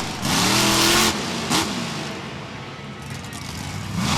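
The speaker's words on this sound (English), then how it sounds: "Whipping it around, going into a donut. Get those tires smoking." A radio-controlled monster truck revs hard while whipping into a donut, a loud buzzing engine surge up front that eases into a steadier, rougher whine with gritty tire scrub.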